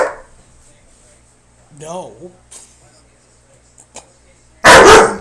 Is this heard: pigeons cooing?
no